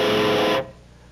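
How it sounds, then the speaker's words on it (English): Electric guitar played through a phase shifter effect, a sustained swirling distorted tone for about half a second that then cuts off to near silence. "And there's the phase shifter."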